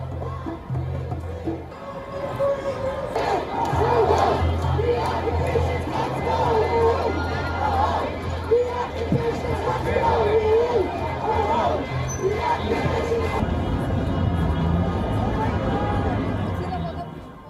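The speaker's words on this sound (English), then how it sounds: "crowds were seen chanting, "Free Palestine."" Protesters outside the Consulate General of Israel in Chicago, a large crowd chanting "Free Palestine" with flags, a loud sustained roar of massed voices and babble that swells after a quieter opening and carries on steadily.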